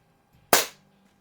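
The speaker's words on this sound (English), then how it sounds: "So I am shooting again 7 yards across the garage here." A Crosman Silhouette 1701P air pistol fires a single sharp shot at a target seven yards across a garage, one close, loud crack that decays quickly in an otherwise quiet room.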